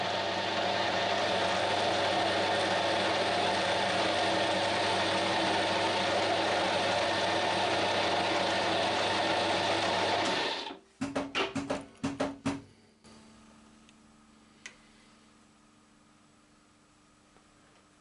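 A ZX7045 milling machine takes a final thread-cutting pass, its steady mechanical drone running loud and continuous before cutting off abruptly, followed by a few sharp clunks and then near silence.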